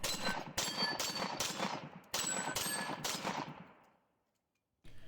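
Rapid gunfire at a multigun shooting match stage, close and loud: bursts of quick shots in two strings, fired from a kneeling position at the end, ringing out and decaying into silence before another shot cuts in.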